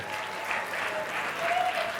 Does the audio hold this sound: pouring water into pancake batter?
no